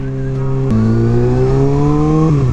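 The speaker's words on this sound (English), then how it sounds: "this bike sounds so good" A 2023 Kawasaki ZX-6R sport motorcycle engine revs loudly and steadily, pitch climbing gradually, close up and alone with no talking.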